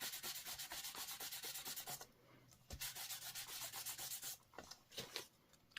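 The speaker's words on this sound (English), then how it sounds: "grab a towel and just buff off the embossing buddy" A towel rubs briskly over heat-embossed paper to buff off leftover embossing powder, a steady run of close, loud scrubbing strokes with short pauses between bursts.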